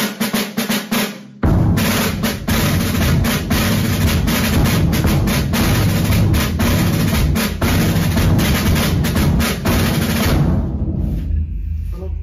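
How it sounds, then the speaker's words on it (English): Snare drum in an orchestral percussion demonstration plays a steady march pattern, loud and close, with dense repeated strokes running for about ten seconds before fading to a ringing tail. "Or it could be something like a march, for example."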